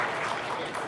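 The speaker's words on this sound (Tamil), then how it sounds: "ஒரு நல்ல கைத்தட்டல் கொடுத்துடலாம்" An audience claps at a Tamil movie audio launch, a dense, loud wash of applause sustained across the moment without any break.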